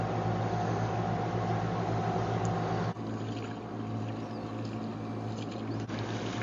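Motor launch boat reversing out, a steady loud droning engine hum that continues unbroken, with a brief dip partway through.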